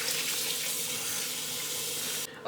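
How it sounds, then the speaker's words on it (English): Tap water runs steadily into a broiler pan being filled for homemade chicken stock, a continuous close hissing rush that cuts off abruptly just before the end. "we have the broiler pan all filled up with water, almost completely full."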